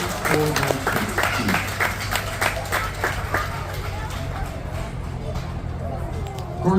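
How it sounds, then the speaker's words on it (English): Audience applause at an exhibition tournament for a goat show and four-horse hitch class, a sustained crowd clapping with scattered claps and babble, a steady hum underneath. "how about a nice round of applause for an excellent tournament here at the exhibition"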